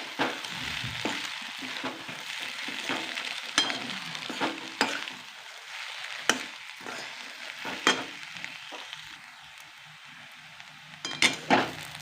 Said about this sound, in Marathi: हे चांगलं परतून घ्यायचं आहे